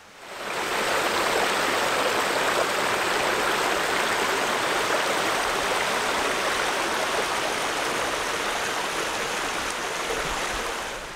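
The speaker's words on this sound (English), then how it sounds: "There's nothing better than falling asleep next to running water." A stream runs beside a wilderness campsite in Maine, a steady, close rushing of water that holds unchanged throughout, with no voices.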